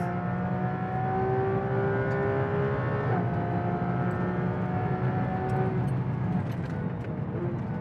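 A Porsche GT3 on a race track accelerates with a steady, high-revving engine drone, its layered tones holding and shifting slightly in pitch, continuous and close with no talk.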